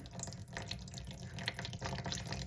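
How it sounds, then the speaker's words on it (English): White wine vinegar splashed into a creamy Caesar-style dressing for a grilled chicken pasta salad, a short close liquid pour with a faucet-like trickling quality running steadily for a couple of seconds, no talking. "I'm going to thin it out with a splash of white wine vinegar"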